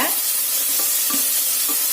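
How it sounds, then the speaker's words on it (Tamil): Finely chopped onion sautés in a hot pan for mushroom gravy, giving a loud, constant bright sizzle. A spoon stirs it in a few soft scraping strokes, close by and without talk. "நல்லா வதக்கிடுங்க."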